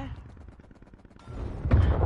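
A burst of gunfire in Call of Duty: Black Ops Cold War on PlayStation 5, a couple of sharp shots near the end, cutting through a busy backdrop of background voices.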